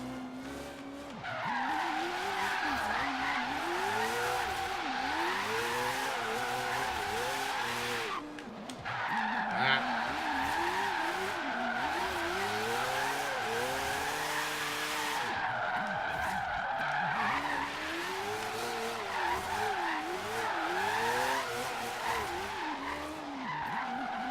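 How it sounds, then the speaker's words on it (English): A Mazda RX-7 drifting during a drift lesson, tires squealing in long wavering howls over a loud, revving rotary engine, with a brief lull before the squeal returns for repeated slides. "So let's try drift."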